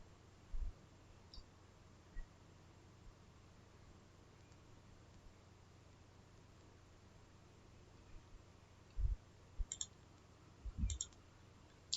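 A computer mouse clicks sharply in a quiet room, a few isolated clicks early on and then a quicker cluster of double clicks near the end, close and crisp against faint background hiss.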